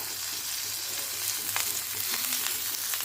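Crushed garlic, curry leaves and green chillies sizzle in hot oil for a spicy chilli fry, a dense, constant hiss close up with faint stirring clicks.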